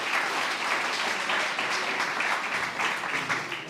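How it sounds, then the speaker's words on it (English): Applause for the McMorris School of Irish Dancing at a community mental health and wellbeing launch in Geevagh, a steady wash of many hands clapping from a hall audience, sustained and fairly close throughout. "Give them a round of applause."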